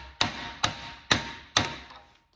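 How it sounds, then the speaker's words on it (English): A hammer taps a chopper motor bearing into a Thunderbolt siren, four sharp metallic strikes spaced about half a second apart, each ringing briefly before the next. "You can hear the sound of the hammer hitting it change."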